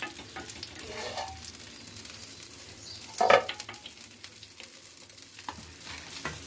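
Potatoes fry steadily in a hot pan for a South Indian potato poriyal, with a constant close sizzle and one sharper clatter of stirring midway. No one speaks.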